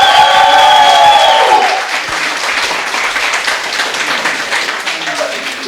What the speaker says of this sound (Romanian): Vreau încă o dată gălăgie și aplauze pentru Lucaci.